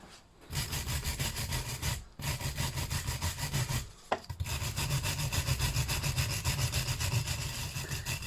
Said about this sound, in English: But sure, we'll use the wire brush.